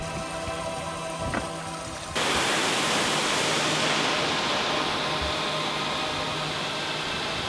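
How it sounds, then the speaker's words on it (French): Waterfall in the Pyrenees, a dense, steady roar that rises abruptly after a few seconds and stays loud and even to the end. "La cascade."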